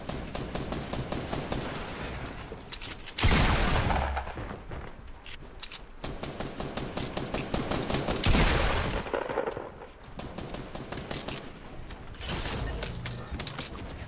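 Rapid video game gunfire in steady repeated cracks, broken by two heavier, louder blasts like shotgun hits, all at a moderate level.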